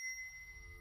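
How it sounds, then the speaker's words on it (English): A small hand bell rings with a bright, sustained metallic tone that lingers as a clear steady note over a low rumble. "the only ringing comes from Gladys's bell"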